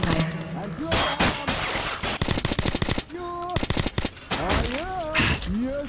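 Rapid bursts of automatic gunfire and single shots in Metro: Last Light Redux, loud and close, firing in clustered volleys with short gaps, while a voice talks over parts of the exchange.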